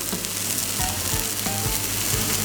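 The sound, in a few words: smoked swordfish fillet frying in a pan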